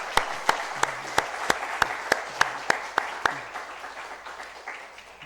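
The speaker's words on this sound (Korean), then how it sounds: "우리 큰 박수로 축하해 주시겠습니다" A church congregation claps during a service in Korea, led by a run of sharp, evenly spaced claps over a softer spread of applause that fades away after about three seconds.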